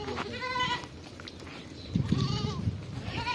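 Goats bleat on an Al Ain farmhouse in the United Arab Emirates, two clear wavering calls, one near the start and another later, over steady livestock background noise at close range.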